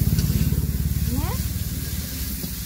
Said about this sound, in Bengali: অল্প তেলে মশলাগুলো করে নিচ্ছি